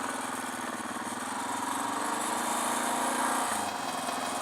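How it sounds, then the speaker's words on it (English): A motorcycle prepared for a Nevada backcountry ride idles at about 1400 RPM, holding a steady, close, even putter that briefly dips near the end without any talk. "Bike is idling good. Let's see what we're idling at. We're idling at about 13 RPM, 1400 RPM."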